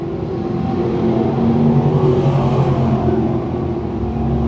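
A crate sprint car at Can-Am Speedway dirt track howls through turns 3 and 4, its engine roar loud and close with a steady, rising pitch that holds throughout, with no talk.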